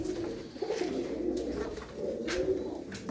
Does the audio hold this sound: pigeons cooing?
yes